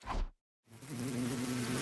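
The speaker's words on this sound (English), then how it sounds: "The bees that had been hovering near the ceiling descended with a terrible cacophony of beating wings." A swarm of bees in The Hundred Line: Last Defense Academy descends from a ceiling, its steady droning buzz of beating wings swelling in after a brief silence and holding loud and close to the end.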